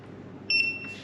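A KickAss vacuum food sealer gives a short, clear electronic beep when it finishes sealing a bag of biscuits. The single tone sounds over a low background hum.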